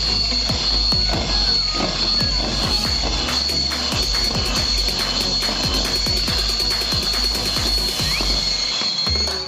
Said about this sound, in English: Now I'm going to blend it again.